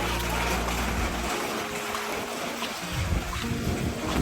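Typhoon Uwan's wind and rain suddenly picking up, a broad roaring rush of gusts with a heavy low rumble that drops briefly and then swells again, loud and close, with no talk.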